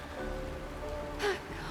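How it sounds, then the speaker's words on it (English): Rain falls in the video game Honkai Star Rail, a soft steady hiss of drops on surfaces with a brief brighter burst of spatter near the end. "It is raining!"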